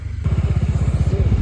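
Motorcycle ridden at night along a winding ghat road, its engine pulsing in a steady rapid rhythm close up, loud and continuous with no talk over it.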